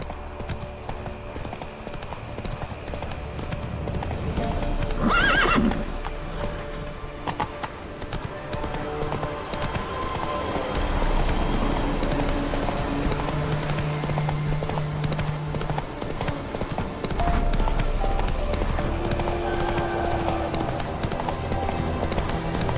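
Roach the horse in The Witcher 3 trots with steady clip-clop hoofbeats under ambient game music, with a brief neigh around the middle; the hooves stay near and moderately loud throughout.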